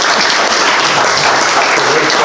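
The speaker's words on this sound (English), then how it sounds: "So another round of applause for Don." Audience applause for a speaker at an evening ghost town talk: a dense, steady wash of many hands clapping, loud and close, with a murmur of voices mixed in, holding without pause throughout.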